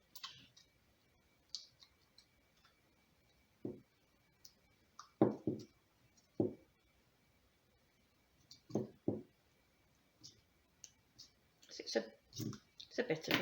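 Scissors working through thin, cheap decoration material for a Dollar Tree winter farmhouse DIY craft, giving sparse, close clicks and snips spaced by quiet pauses.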